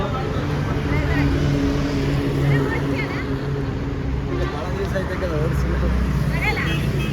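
A new tractor's engine chugs steadily and loudly nearby on a farm throughout, with people talking over the running motor.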